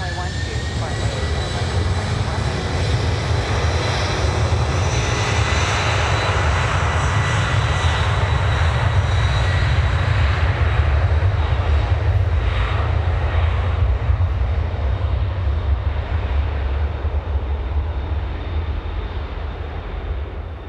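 A heavy Boeing 747 jet takes off from runway 9 at Miami International Airport, a loud sustained roar that holds steady close by, with radio chatter from air traffic control underneath.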